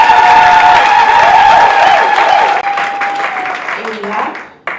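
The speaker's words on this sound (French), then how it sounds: "je veux demander à l'assistance d'applaudir très fort pour Madame Mvukolongo" Wedding guests applaud loudly at a civil and church marriage ceremony, a dense, sustained crowd clapping with some cheering that runs several seconds and then tapers off near the end, with voices mixed in.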